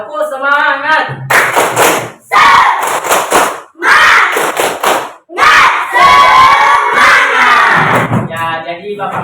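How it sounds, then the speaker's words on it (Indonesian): A classroom of students in Makassar claps in rhythmic bursts and shouts a loud chant together, several close energetic rounds separated by brief pauses, with a teacher's voice leading. "tepuk semangat"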